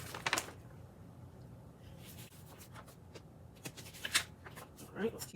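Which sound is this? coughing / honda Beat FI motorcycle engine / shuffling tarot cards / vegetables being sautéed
shuffling tarot cards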